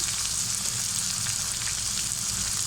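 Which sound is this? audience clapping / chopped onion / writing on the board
chopped onion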